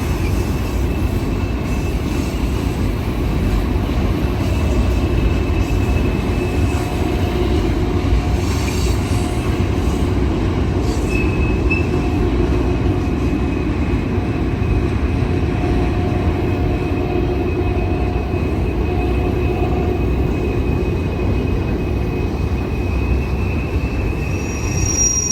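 A heavy 10,000-ton Portland to Ogden freight train crawls over the Highbridge Viaduct at 10 to 15 mph, a steady loud rumble of wagons with thin wheel squeals running throughout, no voices.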